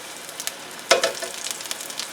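Ginger frying in cooking oil on low heat makes a soft, steady crackle, with one louder burst of sizzle partway through and light popping continuing afterward, no talking.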